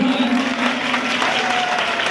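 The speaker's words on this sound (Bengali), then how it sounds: "জোরে করতালি" An audience at a public launch event for an education outreach program bursts into loud, continuous clapping, a dense wash of hands with faint crowd murmur underneath.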